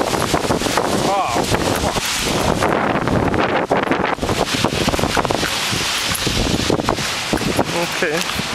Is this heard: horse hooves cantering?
no